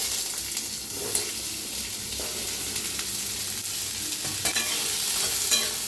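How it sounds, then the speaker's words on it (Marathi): Onion frying in a kadhai, a steady broadband sizzle with occasional stirring scrapes, close and continuous with no talk. "कढाई ठेवलेली आहे, भाजून घ्यायचा आहे कांदा"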